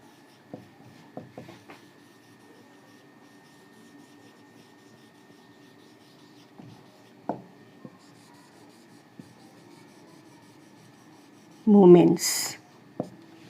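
Marker or chalk writing on a board during a physics lesson on turning forces, heard as soft intermittent scratching strokes near the start and middle, with a louder burst near the end and quiet room tone between.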